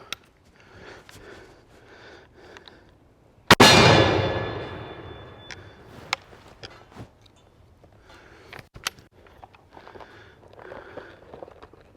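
A rifled musket bullet, fired from an original Harper's Ferry Model 1842 at an outdoor range, strikes a white steel gong with one loud ringing clang that slowly decays, amid quieter handling noises and small knocks.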